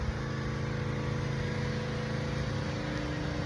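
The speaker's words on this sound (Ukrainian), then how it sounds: "хлопці павер вошать сайдинг, ось, ремонтують сайдинг дерев'яний" A pressure washer cleaning wooden siding in Lincolnshire, Illinois gives a steady, loud mechanical drone with a constant engine hum and hiss, running without a break the whole time.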